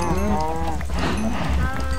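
Cows moo in a video game, with long, drawn-out lowing calls that overlap one another, and a voice talks alongside them.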